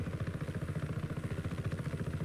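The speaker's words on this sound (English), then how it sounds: "We go take this little friendly helicopter." A helicopter flies in the game Just Cause 3, its rotor thumping in a fast, even, low pulse that holds steady and fairly quiet from start to end, with no talk.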